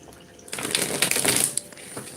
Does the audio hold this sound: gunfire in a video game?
no